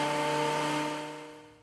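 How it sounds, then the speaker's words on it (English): An electric planer runs over reclaimed cedar boards as a steady whining hum with tonal bands, spinning down and fading over under two seconds, with no voices. "I kind of just planed them until the surfaces were clean"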